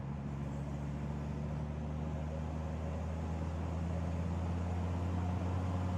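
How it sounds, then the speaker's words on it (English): A rusty Mercedes-Benz turbo diesel car engine runs steadily, a faint, continuous low hum with a smooth, even drone and no voices. "the turbocharger adds a little bit of extra noise, and just being a diesel in general is just a louder car."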